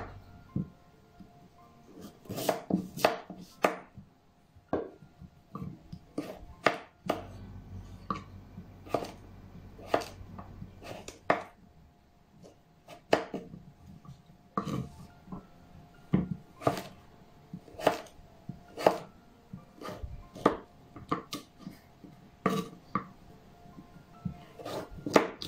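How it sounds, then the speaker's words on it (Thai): Repeated sharp knife strikes cutting purple sweet potato into small pieces on a cutting board, chopping in irregular quick bursts at close range, with a faint low hum in the background. "เราจะหั่นเป็นชิ้นเล็กๆนะคะเวลานำไปนึ่งจะได้สุกง่ายๆค่ะ"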